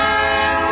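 A moving train's horn blares loud and steady at a crossing beside a school bus, one sustained tone held throughout.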